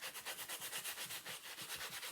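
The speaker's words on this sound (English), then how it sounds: "So with my sanding block, I'm just going to go over the edge." A sanding block rubbed briskly back and forth along the edge of a small black-painted wooden block, about ten quick rhythmic strokes of close, soft scratchy rasping.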